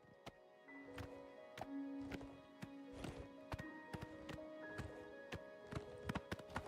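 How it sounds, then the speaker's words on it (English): Horse hooves clopping in the video game Oblivion, a run of sharp, evenly spaced hoof strikes over a low sustained game tone, heard alone and fairly close. "So the horse, you won't ever lose your horse. They'll come."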